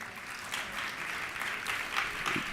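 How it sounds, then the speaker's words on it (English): Audience at a National Action Network convention in Washington, D.C. gives a steady round of applause in a hall, a dense wash of many hands clapping that holds level throughout with no voices on top. "can we give Reverend Sharpton a hand clap of praise"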